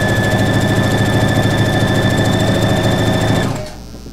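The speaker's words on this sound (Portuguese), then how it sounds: "eu vou costurando as minhas tiras, cuidado, sempre com uma costura bem reta," A sewing machine runs at a steady, fast whirring pace, stitching fabric strips for a nine patch quilt block, loud and close, then winds down and stops near the end.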